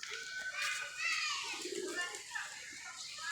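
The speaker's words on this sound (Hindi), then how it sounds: "कबूतर सुबह उठ के आसमान जा रहा होता है" A pigeon coos softly in the open air, low murmuring calls beneath high chirping birds and children's voices, quiet and somewhat distant.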